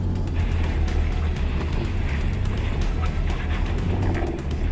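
A four-wheel-drive vehicle grinds up rocky ledges on a high-country track, its engine labouring in a low, continuous drone with scattered knocks and scrapes from the rocks.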